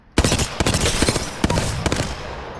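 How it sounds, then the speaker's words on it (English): A video-game gun fires in quick bursts from a bare weapon with no magazine, stock or barrel stabilizer attachments. The sharp, loud cracks come in tight clusters with brief gaps between volleys. "I start with burst fire, right?"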